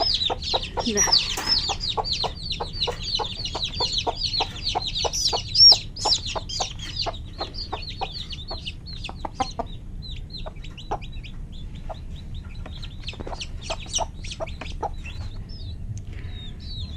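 Day-old native chicks chirp in rapid high peeps, a busy overlapping chorus that thins out a little later, with occasional soft clucks beneath.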